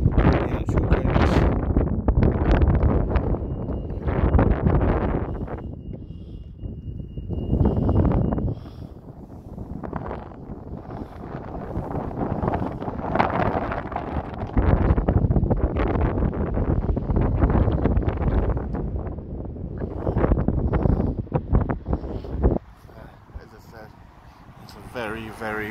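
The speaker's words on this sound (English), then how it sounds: "Very, very windy day." Strong gusts of wind batter the microphone in loud, rumbling bursts that swell and ease, with a voice talking through them.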